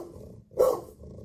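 A short, throaty dog growl rises once out of near silence, a single loud burst lasting under half a second before fading into a low rumble.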